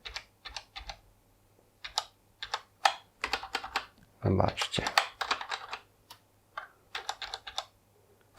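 Keys on a CoolerMaster MS110 hybrid keyboard click in quick, irregular bursts with short pauses between, close and crisp, while a voice speaks briefly partway through.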